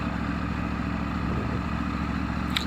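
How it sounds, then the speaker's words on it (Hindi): Motorcycle riding close beside another rider on a road, a steady mid-pitched engine drone with some clatter, close and continuous, with no talk over it. "मेरे बगल से बाइक आई है"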